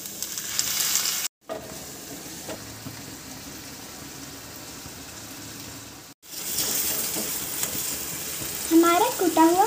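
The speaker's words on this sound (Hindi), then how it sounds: "अब हम प्याज को भूनेंगे। कटे हुए टमाटर डालेंगे।" Onions and tomatoes fry in a kadai for kadai paneer, a steady broadband sizzle with stirring clatter, broken by two brief silent cuts and rising louder near the end with faint scraping.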